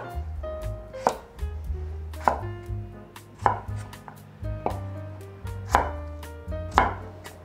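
A knife cuts unpeeled pumpkin into large cubes on a cutting board, with about eight sharp, evenly spaced chops close up over a low background tone.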